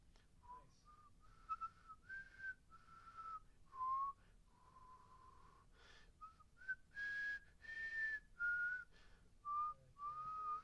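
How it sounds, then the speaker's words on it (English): A person whistles a melody alone, a clear wavering tune in short phrases with brief pauses between them, close and moderately loud in a quiet room. "I can whistle it."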